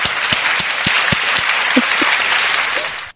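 A crowd's applause holds as a dense, steady wash for about three seconds, with sharper individual claps popping out near the start before it cuts off abruptly.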